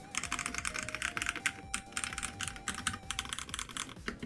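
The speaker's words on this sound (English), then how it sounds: "Spacebar doesn't sound too bad either" Rapid typing on a MelGeek MADE84 Pro mechanical keyboard, a close, steady clatter of key presses in dense bursts with a brief pause midway, and no talking.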